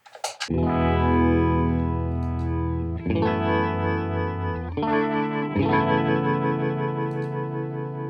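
Electric guitar chords ring through a Fender Vibratone single-rotor rotary speaker effects pedal, giving a swirling, sustained, loud tone that shifts with each new chord strummed across several changes.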